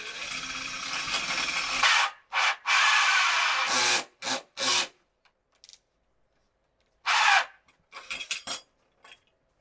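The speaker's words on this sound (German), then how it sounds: "Jetzt erstmal ein Loch einsägen." A wooden camper table top being sawn to cut a hole, with bursts of rough, rasping tool noise separated by silent pauses, loud and close, ending in short scattered scrapes.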